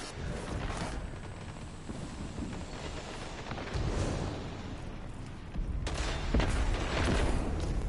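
Gunfire from a high-recoil weapon in Destiny 2 during an Iron Banner match comes as rough, crackling bursts that swell around the middle and again near the end over a noisy, rumbling background, with no speech.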